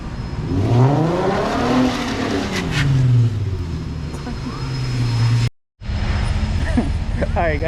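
A 500 whp turbocharged Nissan 350Z engine revs loudly as it moves, with rising and falling tonal whine, then a brief cut before more engine noise and rough tire sounds as the car slides.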